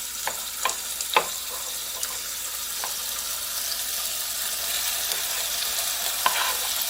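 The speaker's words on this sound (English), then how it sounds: "so we're going to just put this meat right in there" Beef tips sizzle and fry in a pan of hot oil, a steady broadband hiss with scattered pops and a few sharper spatters as the meat settles.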